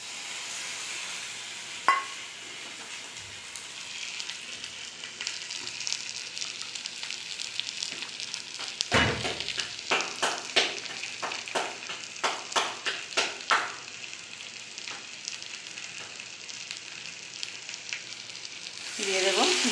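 Ground spice paste fries with bitter gourd and mixed vegetables in a pan, a continuous close sizzle with a burst of rapid scraping stirs in the middle and a voice briefly at the end.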